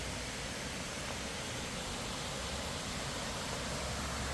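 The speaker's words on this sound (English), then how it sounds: "as you can hear the waterfall" A newly built waterfall in a park spilling into a deep pool gives a steady, even wash of rushing water, constant and fairly soft with no other sounds.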